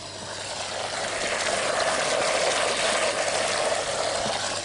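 A steady, loud rush of water pouring continuously into a pond, a broad hissing roar that swells slightly and holds without pause.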